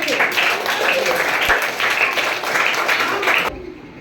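Audience at a summer-camp quiz show claps together for a correct answer, a dense burst of close applause that stops abruptly near the end.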